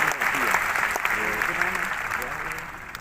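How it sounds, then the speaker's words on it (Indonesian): A church congregation claps loudly and steadily for God, a broad wash of applause with a voice carrying over it throughout. "Tepuk tangan bagi Allah kita"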